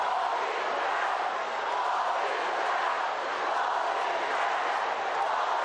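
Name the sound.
St. Louis football fans cheering at high school championship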